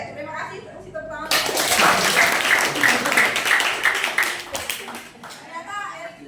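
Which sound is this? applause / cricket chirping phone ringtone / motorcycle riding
applause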